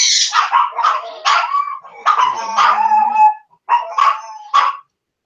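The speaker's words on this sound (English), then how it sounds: "And now the Chihuahua's getting ready to howl." A Chihuahua howls loudly and close, in a series of drawn-out, wavering yowls and yips separated by short pauses.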